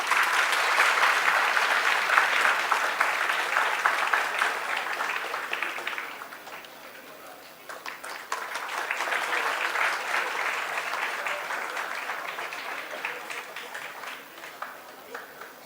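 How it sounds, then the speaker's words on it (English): Audience at a World Health Day ceremony applauds in a sustained, dense burst of clapping that dips briefly midway, then swells again and carries on steadily to the end. "A round of applause, please."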